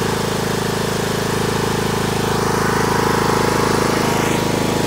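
A John Deere riding lawn mower's engine runs steadily while cutting grass, giving a loud, constant droning hum up close with no voices over it.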